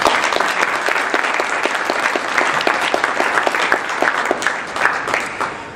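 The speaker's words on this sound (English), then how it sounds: "Could we have a round of applause for our winners," Audience applauding award winners at a comics awards ceremony, a dense and even roll of clapping with many distinct claps, loud and continuous from start to finish.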